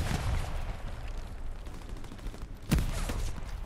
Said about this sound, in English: There's so many people shooting at me.